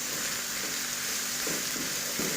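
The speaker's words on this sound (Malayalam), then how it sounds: "അതിലേക്ക് വെളുത്തുള്ളി, ഇഞ്ചി നന്നായി ഇളക്കി കൊടുക്കുക." Garlic and ginger stir-frying in a pan hiss with a constant near sizzle, with a few soft stirring pushes heard toward the end.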